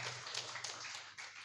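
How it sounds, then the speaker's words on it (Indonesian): A church congregation claps together during a worship service, a dense, continuous patter of many hands heard briefly and fairly close. "Tepuk tangan buat Yesus Kristus."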